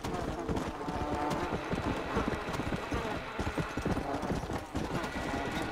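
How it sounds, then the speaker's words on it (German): Horse hooves clip-clopping at a gallop in Red Dead Redemption: Undead Nightmare, a dense continuous patter of several horses close by, with a voice talking over it. "Warum sind jetzt auf einmal wieder so viele, Pferde unterwegs"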